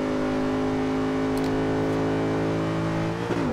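A 2005 Mercedes-Benz SLR runs at full throttle in Forza Horizon 2, giving a loud, steady, sustained engine roar close up. A brief shift or flutter comes right at the end.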